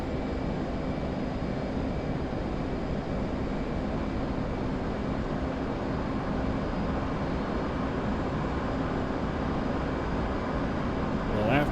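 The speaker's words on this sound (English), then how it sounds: "Afterburner." F/A-18 jet roaring on afterburner in DCS World: a steady, loud, dense engine roar holding unbroken throughout, with a slight swell at the very end.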